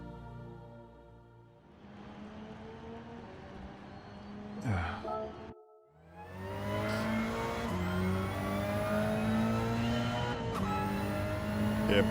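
Hyundai Elantra race car engine in Gran Turismo 7, a steady revving drone with rising and falling gear pitches, a brief cut near the middle, then strong acceleration with upshifts; faint talk may sit underneath.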